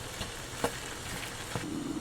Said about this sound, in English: It's sizzling now.